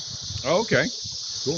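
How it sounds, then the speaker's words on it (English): Cicadas drone outdoors in a steady, high, unbroken buzz that runs through the whole moment while someone speaks briefly over it. "The cicadas are at it again."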